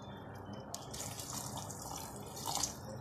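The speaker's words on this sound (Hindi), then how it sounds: "एक गिलास पानी डाल के चेक करेंगे, थोड़ा सा और डाल सकता है पानी।" Water from a glass is poured over bitter gourd and onion in a pan as a faint, brief trickling splash, with soft dripping and gurgling that swells slightly near the end.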